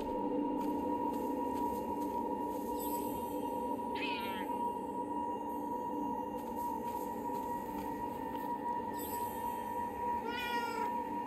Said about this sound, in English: I bet one of those cool cats is nearby.